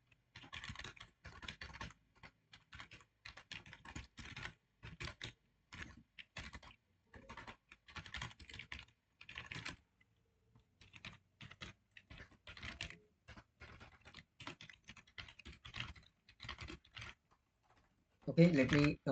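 Code is typed on a computer keyboard in steady bursts of close, crisp keystrokes with brief pauses between runs, ending in a louder clack.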